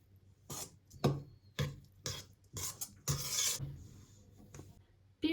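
Çiğ köfte mixture is stirred in a bowl, giving a series of close, gritty scraping and rasping strokes with short pauses between them.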